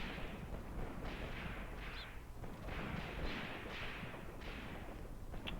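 Gunfire from dug-in Russian positions on a reverse slope in the World War II wargame Graviteam Tactics, Kharkov 1941: rumbling shots and distant blasts in a steady, dense stream, fairly faint and without speech.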